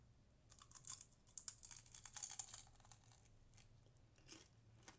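Quiet, close crunching and crackling bursts come in clusters as someone bites into crisp Jollibee fried chicken, with no talking.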